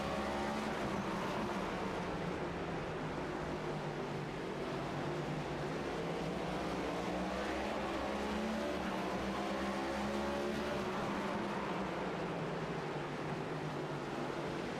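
Race cars running side by side at Martinsville Speedway in the iRacing video game, steady droning engine notes with rising and falling pitch as the cars rev through the short track, continuous and even throughout.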